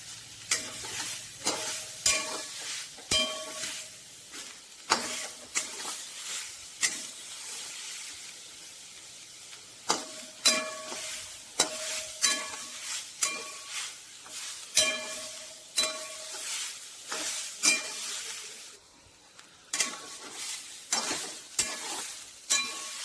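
Food roasts in a pan while being stirred, giving a soft sizzle broken by repeated scraping and clinking strokes in an irregular rhythm, close and moderately quiet.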